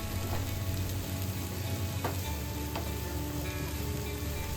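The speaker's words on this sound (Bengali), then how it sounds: "এবার পুরো জিনিসটাকে অল্প আঁচে ধীরে ধীরে ভেজে নেব যতক্ষণ না সমস্ত সবজিগুলো ভালো করে সিদ্ধ হয়ে যায়" Vegetables with sweet golden corn fry steadily in a pan over low heat for pasta, a continuous close sizzle with a few soft scrapes and no voices.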